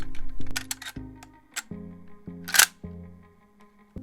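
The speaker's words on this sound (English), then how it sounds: "And we can put in also the bolt assembly with the bolt." A bolt assembly being fitted into an HROM ultracompact PDW, heard as a few close, sharp metallic clicks and clacks of parts seating, with a brighter snap partway through and quiet handling between.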